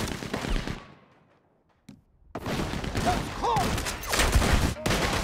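Rapid bursts of Gatling gun fire in the Western video game Red Dead Redemption 2, loud dense chattering volleys that break off into a short lull, then resume heavily mixed with other gunfire and game noise.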